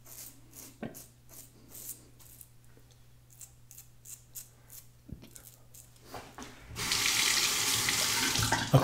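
Short clicks and taps of a shaving razor come first, then a tap bursts on near the end and water gushes steadily into the sink as the razor is rinsed.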